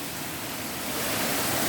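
A small waterfall beside a hiking trail on a lakeside walking path, its steady broadband rush of falling water heard up close, continuous and fairly loud, swelling slightly toward the end with no voices.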